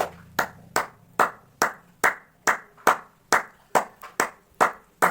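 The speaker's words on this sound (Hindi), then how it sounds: "आपको करना है इस तरह से आप ताली बजाइए।" Bare hands clap steadily as a seated exercise, about a dozen sharp, evenly spaced claps close by with short decays, alone with no talk.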